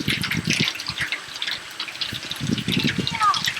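Clean water runs from a water wagon on a hillside, a steady splashing trickle under continuous broadband noise, with brief voices faintly mixed in.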